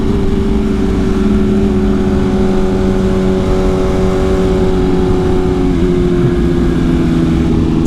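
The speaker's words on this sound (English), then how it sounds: "He's got an Austin Racing exhaust too. Nice exhaust" Motorcycle fitted with an Austin Racing aftermarket exhaust, a loud, steady, close engine drone that holds an even tone throughout and shifts slightly in pitch near the end.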